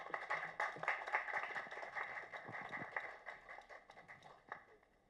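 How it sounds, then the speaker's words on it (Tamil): An audience at an audio launch event claps to welcome a speaker to the stage, a thin, scattered patter of hands heard from a distance that rises briefly and then tapers off. "ஒரு பலத்த கைத்தட்டலோட சாரை மேடைக்கு கூப்பிட்டுடலாம்"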